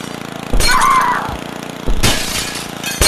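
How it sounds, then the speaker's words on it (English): Glass shatters in Happy Wheels: two sharp, bright smashing bursts, the first trailing a ringing tinkle and the second a shorter crash, with a third crack cut off at the end, all over a low droning background. "Glass break, easy."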